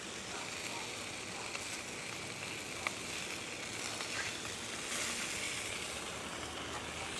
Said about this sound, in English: that's how I like my grill running for this, to cook these brats or these sausages